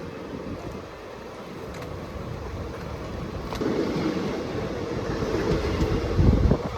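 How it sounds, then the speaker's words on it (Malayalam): A Shoranur–Coimbatore passenger train pulls out of a station: a low rumbling roar builds gradually, mixed with heavy wind buffeting across the microphone, growing louder toward the end, with no speech. "അപ്പോൾ നമ്മുടെ വണ്ടി ഇവിടെ നിന്ന് എടുത്തു പോവാണ്"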